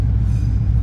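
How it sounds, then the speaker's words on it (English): A steady, heavy low rumble of a train rolling past nearby a stopped car, continuous and even throughout with no voices. "Currently, we're stopped by a train as we're testing."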